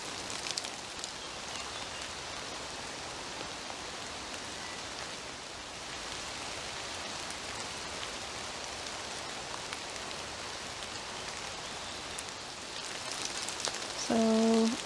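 Steady rain patters and drips through a wet woodland canopy, a dense even hiss that holds throughout, swelling slightly near the end with a few brief tonal chirps.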